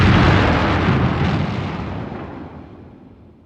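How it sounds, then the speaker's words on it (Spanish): A big explosion tears through a corridor: a loud broadband blast that starts at full force and slowly rolls off over a few seconds, with no voices. "la explosión devoró el corredor"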